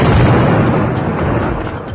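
Loud, sustained rumbling boom from a submarine torpedo striking a 1,500-tonne Iranian warship, dense and continuous throughout without any clear break.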